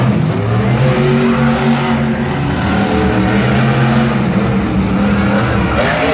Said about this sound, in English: you can hear the clanging from the body on that chassis